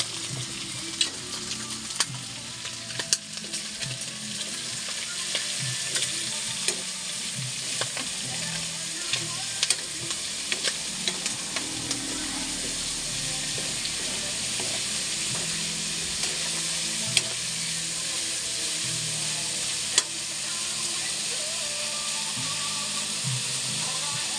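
Pork and jackfruit sautéing in a hot pan as chili goes in: a steady, loud sizzle and hiss, broken by frequent light clicks and scrapes of stirring, with occasional soft background sounds.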